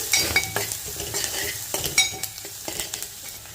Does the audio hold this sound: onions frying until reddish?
yes